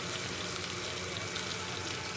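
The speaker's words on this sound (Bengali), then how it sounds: "চলো ধীরে ধীরে মাছটা ভাজা হোক।" Fish sizzles steadily in hot oil in a pan, still partly cold from ice, giving a continuous close crackling hiss throughout with no talk.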